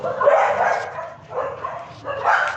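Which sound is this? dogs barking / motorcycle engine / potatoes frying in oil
dogs barking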